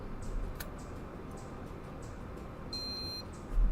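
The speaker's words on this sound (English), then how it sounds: "because I want to hear that beep." A Tamagotchi Uni virtual pet toy gives a short, bright electronic beep, a single clear tone near the end heard over a soft background hiss.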